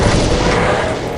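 A rocket launcher explosion in Doom on a Sunlust map: a single loud, dense blast that stays heavy and rumbling for its whole short length.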